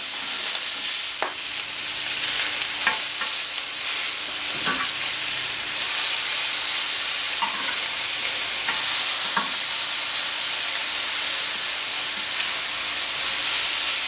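Yakitori skewers glazed with sugary teriyaki sauce sizzle steadily on a hot plancha, a dense continuous frying hiss with a few soft clicks and taps as the skewers are turned, close and fairly loud with no talking.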